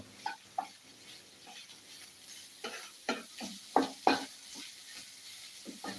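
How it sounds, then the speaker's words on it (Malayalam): Stirring a frying egg dish in a pan, with a soft steady sizzle beneath scattered scraping strokes and a few sharper clinks, most distinct toward the middle, no voices. "നന്നായിട്ടൊന്ന് ഇളക്കി കൊടുക്കണം"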